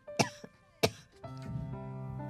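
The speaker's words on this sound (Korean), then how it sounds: "아, 당신 요즘 기침이 잦네." A man coughs twice in sharp, separate bursts, followed by a low tonal background of music-like sustained notes.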